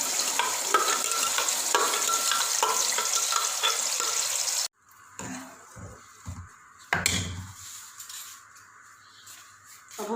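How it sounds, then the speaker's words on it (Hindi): Blended masala fries in ghee with a dense, loud sizzle for about four seconds, then cuts to quieter, intermittent stirring and scraping in the pan. "मसाला ब्लेंड हो गया है, इसको हम घी में डाल देंगे वापस।"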